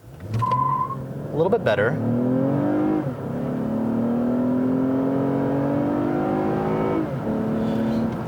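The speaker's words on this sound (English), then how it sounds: "Let's try accelerating from a stop once again here." A 2019 Lexus ES 350 F-Sport with V6 engine pulls away from a stop, its engine note rising steadily through the gears with brief shift dips, close and loud, with a short spoken remark near the start.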